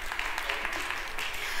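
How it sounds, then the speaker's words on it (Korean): A church congregation at an intergenerational worship service claps briefly, a soft, moderately distant patter of applause with faint voices mixed in. "박수 한번 쳐주세요"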